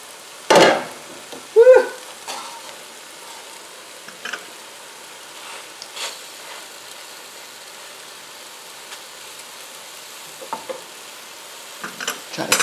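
Shrimp egg foo young fries in a pan with a soft, steady sizzle, broken by a few sharp clinks and scrapes of a utensil against the pan.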